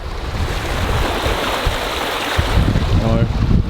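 Broadband rush of wind and sea spray around a sailboat under full sail running downwind at about 8 knots in 18-knot wind, a steady close-up wash with water slapping the hull and a few brief low knocks near the end.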